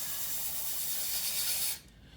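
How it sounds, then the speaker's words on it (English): Air hisses steadily out of a hydrafacial machine that is missing its orange rubber O-ring, a close, breathy rush that cuts off abruptly, leaving near silence. "But if that ring is not on here, the air is gonna come out."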